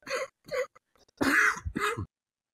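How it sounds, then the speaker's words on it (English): A person coughs several times in short bursts, two small coughs then a harsher, throaty pair, close up with silence between. "Coughed his voice right off."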